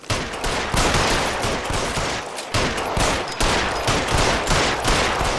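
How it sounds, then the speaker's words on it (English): Gunfire in the video game L.A. Noire: loud, rapid bursts of shots in dense volleys, with a short lull midway before the shooting resumes. "He's getting shot."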